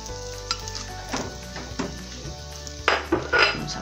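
Chicken milanesa frying in a pan over moderate heat, a steady oil sizzle running throughout with a few scraping and clattering handling noises, growing louder near the end as the cutlets are placed and settled.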